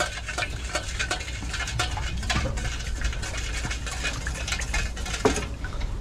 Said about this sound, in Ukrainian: Все треба перемішати, щоб воно повністю розтворилося.